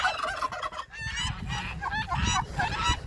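Geese honking in a loud, busy chorus, several birds calling over each other in repeated harsh honks, close by.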